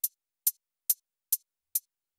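Five short, crisp hi-hat ticks spaced evenly about half a second apart, each with a bright, slightly smeared grainy tail, playing alone; a hi-hat transformed with Ableton's Grain Scanner granular synth.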